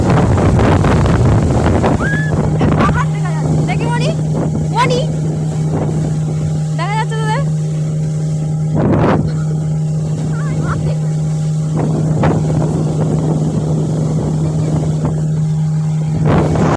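A speedboat's engine drones steadily under strong wind buffeting as the boat rides across the water, with family members talking over the continuous roar and occasional bumps from the hull.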